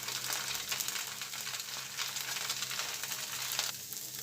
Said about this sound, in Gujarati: હવે એને આપણે પલટાવી લઈશું અને 1 મિનિટ સુધી એ રીતે મીડિયમ ગેસ પર ચડવા દઈશું।